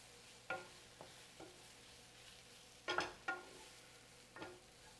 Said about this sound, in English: This is just a quick stir fry.